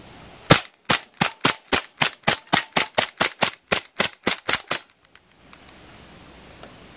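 Rapid string of about sixteen sharp CO2 blowback shots from an Umarex Beretta M9A3 4.5 mm BB pistol, loud and evenly spaced over four seconds, then quiet background.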